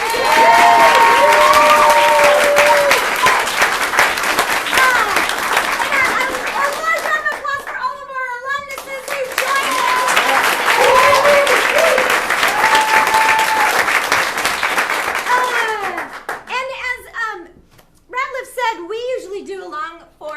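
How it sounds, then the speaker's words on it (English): A large audience applauds loudly for several seconds for musicians at a festival show, pauses, then claps again, with voices and cheers mixed in before the clapping fades. "a big round of applause for all of our musicians"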